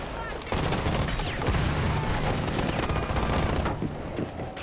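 Rapid automatic gunfire crackles through a tactical first-person shooter match, a loud, dense, continuous burst of shots filling nearly the whole stretch before easing off at the end.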